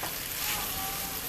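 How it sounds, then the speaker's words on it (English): Noodles for a simple chow mein fry in a pan, a steady, even sizzle close by with no talking. "let the noodles kind of fry up."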